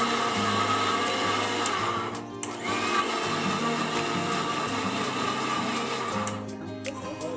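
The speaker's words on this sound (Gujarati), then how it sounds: "મિક્સરમાં નાના પીસિંગ કરી રહ્યા છે" A mixer grinder crushes onions with a loud, continuous motor whine, briefly dipping in pitch between pulses before running on steadily at close range.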